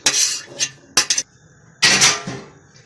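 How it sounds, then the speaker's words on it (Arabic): Cooked molokhia is emptied from a tray into a cooking pot, giving several sharp metallic clanks and scrapes in irregular bursts, close and fairly loud, with no talk. "نجيب اللي في الصينيه كله كده نفضيه في الحله"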